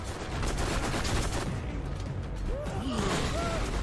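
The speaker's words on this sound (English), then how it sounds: "And the coolest part about this weapon is it has high fire rate, high damage, and burst fire." Rapid bursts of video game gunfire from a high fire rate, high damage weapon, loud and dense throughout with a few whistling tones near the end.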